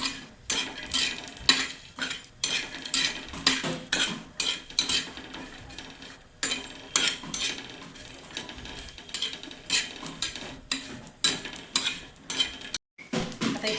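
Grated coconut roasting in oil in a pan for a traditional stuffed eggplant masala, with a spoon repeatedly scraping and stirring against the metal in an uneven rhythm over a low sizzle, close up and without talk.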